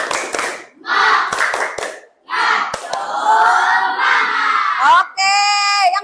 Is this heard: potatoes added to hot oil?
no